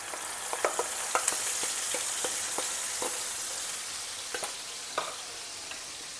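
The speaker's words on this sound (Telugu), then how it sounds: "దీన్ని కూడా మనం పచ్చివాసన పోయేలాగా వేయించుకోవాలి" Fish gravy frying in oil in a pan, a steady close sizzle with scattered sharp pops and spatters, no talking.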